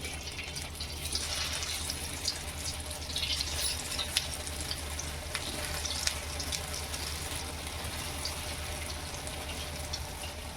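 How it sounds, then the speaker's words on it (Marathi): Colocasia leaf rolls (alu vadi) sizzle steadily in hot oil in a home kitchen pan, a continuous bright crackling hiss with faint pops, close and alone without talk. "तेल गरम झालं आहे एक एक वडी आपण त्याच्यात ठेवले"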